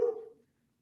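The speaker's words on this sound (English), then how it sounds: "apologies for the barking dog" A single short dog bark, one sharp close yelp that fades within half a second and leaves silence.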